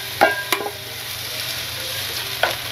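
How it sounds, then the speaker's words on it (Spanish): Chopped onion cooks in a little oil in a pot for a Peruvian soup, giving a soft steady sizzle broken by a few sharp spoon knocks against the pot. "Cocinamos un par de minutitos nuestra cebolla."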